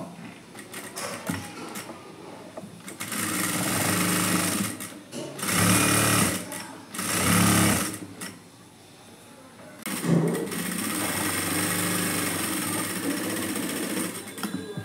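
A sewing machine stitches a simple blouse in loud close bursts of rapid mechanical whirring, stopping and restarting several times with short gaps between runs.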